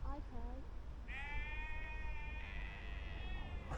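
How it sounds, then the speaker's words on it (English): A sheep out in a field bleats loudly and sounds agitated, first in a few short wavering calls, then in one long drawn-out bleat, close by over low rumbling background noise. "That is one noisy sheep. It sounds a little angry, doesn't it?"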